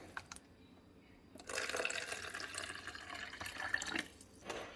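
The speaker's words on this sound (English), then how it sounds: "Swish the container around, and then just bring it over here and pour it." Water is poured from a container into a cooking pot in a steady trickling stream for a few seconds, faint and close, with small clinks before and after.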